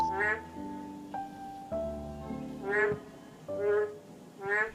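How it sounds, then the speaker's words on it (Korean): Korean narrow-mouthed toads call at night in a palace pond garden, four loud nasal croaks spaced about a second apart, with a steady low hum and tonal background sound running underneath. "야행성 양서류과인 맹꽁인데요"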